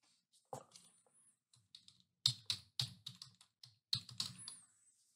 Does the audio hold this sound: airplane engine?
no